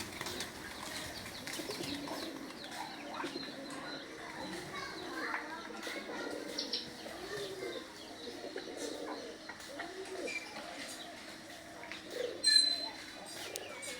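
Pet pigeons coo softly and keep cooing, faint and a little distant, under ongoing conversation with a brief louder flutter near the end.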